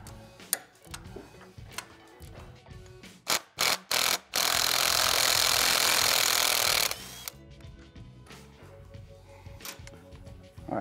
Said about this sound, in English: I'm gonna get up in here with a ratcheting wrench and bust the nut loose here